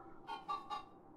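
Minecraft Story Mode chickens cluck in three short, nasal, evenly spaced squawks over a second, close and moderately quiet, with no voices.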